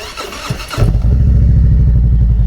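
A 2017 Harley-Davidson Street Glide Special in Laguna Orange cranks briefly, then its engine catches and settles into a loud, steady, throbbing idle right up close, with no voices over it.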